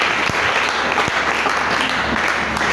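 A church congregation breaks into sustained applause for the Lord, a dense, even wash of many hands clapping at close range for nearly three seconds with no voices above it.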